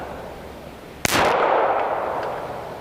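A single sharp shot from a Glock 30SF pistol firing a .45 ACP round outdoors cracks loudly and rolls into a long fading echo after a quiet lead-in.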